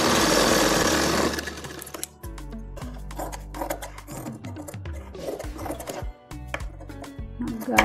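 Sewing machine stitching cloth for a simple side-neck top, its rapid needle chatter running in bursts that stop and restart, close and fairly loud, with no talk.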